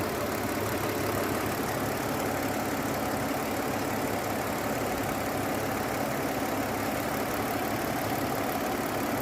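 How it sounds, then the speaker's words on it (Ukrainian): A 2005 Hyundai Santa Fe 2.7 with automatic transmission and a dual gas-petrol setup idles on petrol, giving a steady, dense engine hum with faint clicking from the injectors, continuous and close with no talk. "Це мотор працює на бензині."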